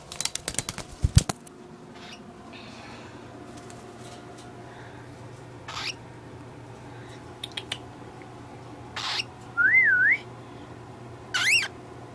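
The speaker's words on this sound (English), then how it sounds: "Sometimes he whistles like that." A pet cockatiel whistles a short warbling rising-and-falling phrase near the end, after scattered clicks, rustles and brief bursts of noise in an indoor room, with no talking.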